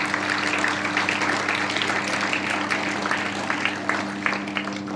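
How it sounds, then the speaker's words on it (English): Students at a school assembly clap for an honoured guest, giving steady, moderately loud applause over a constant low hum. "Give him a big round of applause"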